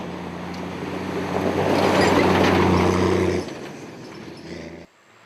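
A modified Toyota 80 series 4x4 with a chopped body drives into water during a winch truck challenge stage, its engine droning under a rising rush of splashing that fades as the truck moves on.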